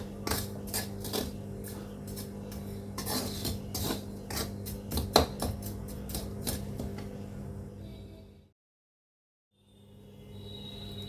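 A spoon scrapes and clinks steadily against a pan while sugar is stirred into a semolina-flour mixture over a high flame, the metallic taps irregular and close, then a brief silent gap before faint clatter resumes.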